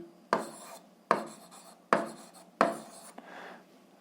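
Four distinct writing strokes during an eighth-grade algebra lesson, each a sharp scratch that trails off, spaced evenly and close, with no talk.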